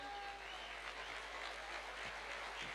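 Audience applause at a business seminar for a lifestyle business plan, a steady wash of many hands clapping throughout, moderately loud with no talk over it.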